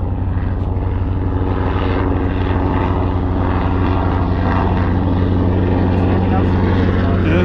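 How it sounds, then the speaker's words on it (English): Loud, continuous engine drone with rhythmic rotor-like thumping from a helicopter passing overhead, steady throughout. "Check out this helicopter."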